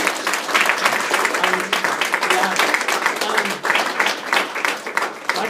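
Audience clapping after a speech, a dense burst of applause from a room full of people lasting several seconds, fairly loud and close, with some voices mixed in.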